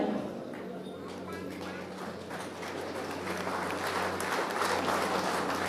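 Applause from the audience at a Chief Minister's medal award ceremony, a dense, sustained wash of clapping that grows slightly louder toward the end.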